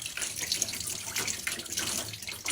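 A kitchen tap runs steadily while food is washed under it. The hiss of splashing water is continuous and close, with small fluctuations as the flow hits the food.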